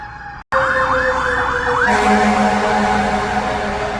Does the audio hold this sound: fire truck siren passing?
yes